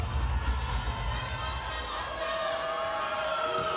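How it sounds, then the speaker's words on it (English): A crowd at a volleyball match cheers and murmurs in a large arena, a sustained roar of voices with whoops rising toward the end. "They got a good, healthy crowd here tonight"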